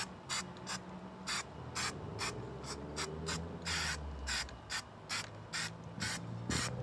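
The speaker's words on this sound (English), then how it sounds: "you want to make sure that every little spot has been sprayed on." An aerosol can sprays sealant coating onto a leaky bird bath in short repeated hissing bursts, about a dozen, each under a second, with brief gaps between them. The bursts are fairly close and moderately loud over faint background noise.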